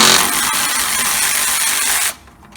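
A power tool whirs steadily, tightening a bolt on the spring shackle of a 1977 Ford F150, holding a continuous loud buzz for about two seconds before cutting off abruptly.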